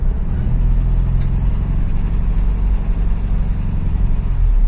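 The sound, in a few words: Toyota 22RE engine idling after cold start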